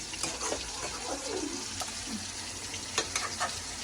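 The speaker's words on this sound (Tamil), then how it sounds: "காளான நல்லா வதங்கி கொடுக்குது." Mushrooms and tomatoes sautéing in a pan, a close steady sizzle with scraping stirs and occasional clacks of a utensil against the pan.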